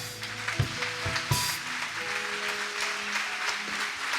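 Church congregation applauding loudly during worship: a dense, steady wash of clapping mixed with music and sustained tones, fairly close and continuous throughout.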